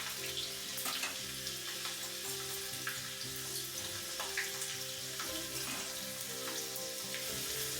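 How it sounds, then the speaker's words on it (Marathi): Whole garlic fries in hot oil in a small tadka pan, producing a steady, crackling sizzle with scattered pops and a faint background hum, fairly quiet and close with no talking. "आणि ऑइल जेव्हा छान गरम होईल ना, तेव्हा त्यात ऍड करायचा अख्खा लसूण"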